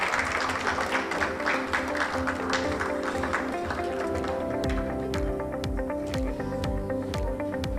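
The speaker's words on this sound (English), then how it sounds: "Let's give her a clap as we take a picture." Audience clapping for an award recipient posing for a photo at an autism community event, steady and close, mixed with a rhythmic tonal backing and scattered sharp taps.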